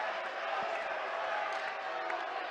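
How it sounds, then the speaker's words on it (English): Basketball crowd in a high school gym booing the referees' calls, a continuous murmur of many voices with scattered shouts, moderately loud and steady for a short stretch. "You're starting to hear some boos from the Waynesboro side of things"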